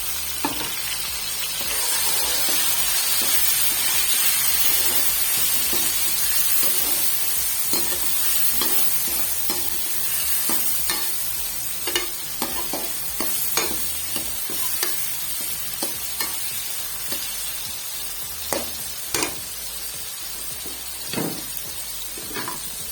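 Tomatoes frying in masala for saag hiss loudly and continuously in the pan, close by, with repeated scrapes and knocks of a spoon stirring through the second half.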